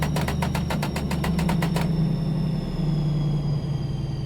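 A heavy DB BR 218 diesel locomotive engine in a train simulator game rumbles steadily at close range, with a rapid series of clicks at the start; the low drone eases slightly in pitch as revs drop.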